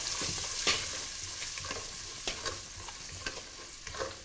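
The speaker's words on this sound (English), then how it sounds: "Let it just fry a bit." Onion frying in a pan with a stock cube mixed in, a soft continuous sizzle punctuated by several sharp crackles and spatters, fairly quiet and close.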